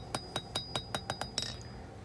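A forged knife blade being cut off on a hardy cutter set in an anvil, a run of about eight bright, ringing metallic strikes at a quick, fairly even pace, close up, with no talking.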